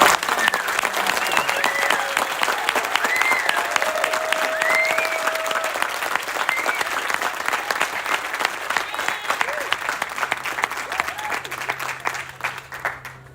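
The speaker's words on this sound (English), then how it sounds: "Let's have a very big round of applause for the class." An audience at the 2024 Bridgehampton High School graduation ceremony gives the graduating class a long, dense round of applause, with scattered whoops and cheers rising above the clapping before it gradually thins out.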